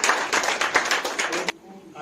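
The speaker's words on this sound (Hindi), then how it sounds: "ताली बजाओ यीशु के लिए।" An audience at a church worship conference in Goa claps together in a dense burst lasting about a second and a half before fading, fairly close, with a voice speaking over it.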